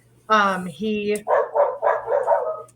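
A dog close to the microphone barks and yips loudly in a quick series of about six excited outbursts, under a faint steady hum, with a brief spoken word mixed in.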